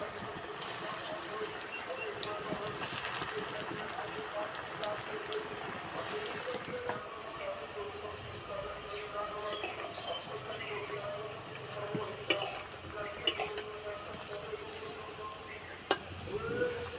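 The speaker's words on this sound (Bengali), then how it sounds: "তেল গরম হয়ে গেছে, এবার ভেজে নেব।" Radish balls frying in hot oil in a wok, a steady crackling sizzle running throughout with occasional pops and spatters, while a person speaks over it.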